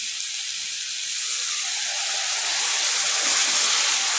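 Spice paste fries with a splash of water in a pan, a close hissing sizzle that swells steadily louder as it goes, with nobody talking over it.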